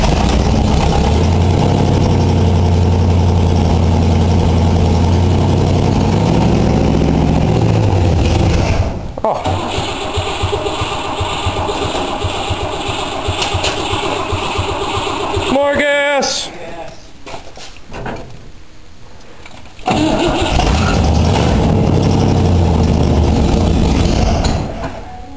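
A Cadillac engine, primed with fuel into the carburetor, fires and runs rough and loud at idle, stumbles and cuts out partway through, then catches again. People talk over it.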